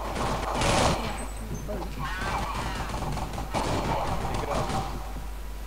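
Counter-Strike gunfire crackles in rapid bursts with mechanical clanks amid steady game noise, with speech faintly underneath.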